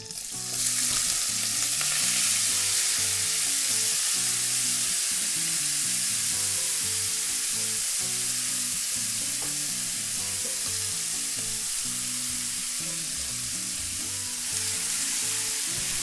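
Vegetable oil frying hard in a pot for Trini saltfish and dumplings, a loud, dense, continuous sizzle and crackle held close throughout, with a low rhythmic hum underneath and no talking.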